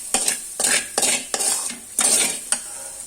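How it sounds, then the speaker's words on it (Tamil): Fried rice with carrot and beans being stirred in a pan, a spatula scraping and clattering in about six quick bursts with a light sizzle beneath, close and fairly loud. "இப்போ அந்த கலர் சேஞ்சிங் வரைக்கும் நாம தொடர்ந்து அதை கலரிட்டு இருக்கிறோம்"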